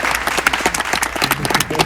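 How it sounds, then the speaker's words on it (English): A garden crowd at the Let It Grow Foundation gives a round of applause for a visiting guest named Cliff, steady dense clapping over the whole stretch with faint voices mixed in. "So I'd like to give Cliff a round of applause"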